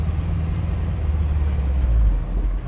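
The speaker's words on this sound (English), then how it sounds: "Now let's drive this beautiful car." A 1963 Corvette Fuelie convertible rumbles close by as it drives off, a steady low engine drone that swells slightly as it moves away.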